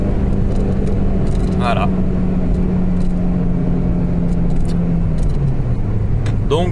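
A Citroën Xsara Exclusive with a 2-litre 16-valve 136-horsepower engine and 250,000 km on it accelerates in a close, droning engine note that rises slowly, dips near the end, then climbs again, with a brief spoken word.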